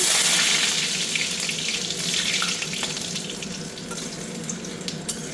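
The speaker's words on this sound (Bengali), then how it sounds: "দিয়ে দেব কালো জিরে ফোড়নে, দিয়ে দেব কেটে রাখা রসুনের কুচি" Chopped garlic and black cumin seeds sizzle in hot oil in a home kitchen, a close, steady hiss with scattered sharp pops and crackles that eases slightly over about five seconds, with no voices.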